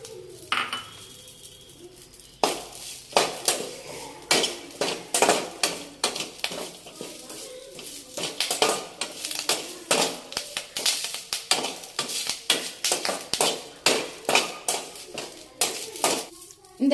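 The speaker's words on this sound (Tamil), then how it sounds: "இந்த கறிவேப்பிலையும் வதங்கிடுச்சு." Curry leaves sautéed in a kadai with a metal spoon, giving a quick run of sharp clinks and scrapes against the pan, loud and close, over a faint background hiss.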